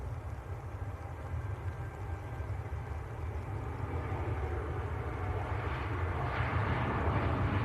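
A Saudi Boeing 787-9 Dreamliner taking off and rotating, heard as a low, steady jet engine rumble from a distance that gradually swells louder, with no talking.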